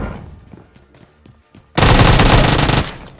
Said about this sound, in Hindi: मैं इस पर अंधाधुंध फायरिंग करने लगता हूँ